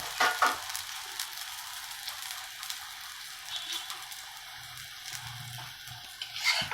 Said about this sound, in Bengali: আর একটু তেল দিয়ে দেবো এর মধ্যে, হালকা একটু তেলে ভাজবেন